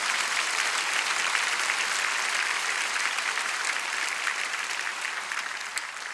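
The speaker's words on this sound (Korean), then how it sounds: "하나님께 영광의 박수를" A church congregation claps together in steady, dense applause that holds evenly throughout, with no speech over it.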